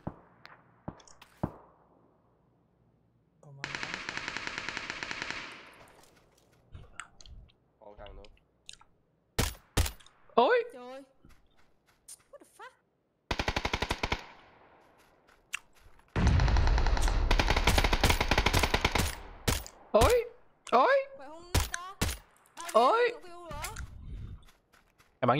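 Gunfire in a video game: long bursts of automatic fire and scattered single shots, loud and close, with a voice talking between the bursts.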